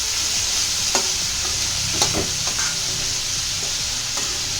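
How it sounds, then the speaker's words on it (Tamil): Onion and tomato sizzle in hot oil in a pan while being stirred for kara chutney. A constant frying hiss runs throughout, with occasional scrapes and clinks from the stirring. "இப்போ வெங்காய தக்காளி போட்டுக்கோங்களா, அது நல்லா அதுவும் நல்லா கம்பி பதம் வரைக்கும் நல்லா போட்டு கிண்டணும்"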